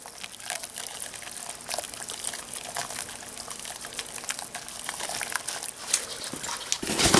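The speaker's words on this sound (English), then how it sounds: "we're going to start adding the hydrocal." Hydrocal plaster poured steadily into water for rock-making on a model railroad layout, a continuous soft trickling and sloshing heard close up with no talking.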